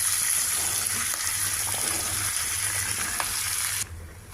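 Slit green chillies, curry leaves and ridge gourd pieces sizzle steadily in a hot pan with oil and asafoetida, a close, continuous frying hiss that drops off sharply near the end.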